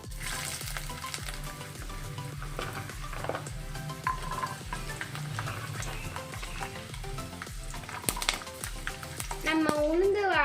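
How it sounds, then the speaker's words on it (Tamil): Ginger and garlic sizzle steadily in hot oil left from frying urad dal and chana dal, while making a curry leaf thokku. A continuous close frying hiss comes with occasional stirring clinks and a brief rise near the end. "நம்ம உளுந்து வதக்கின எண்ணெயிலேயே நீங்கள் இஞ்சி பூண்டு போட்டுக்கோங்க."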